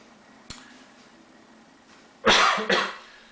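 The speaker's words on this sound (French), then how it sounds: "Je tousse. Je tousse." A person coughs twice in close succession, two loud, harsh bursts near the end after a faint click and quiet background, with no talking.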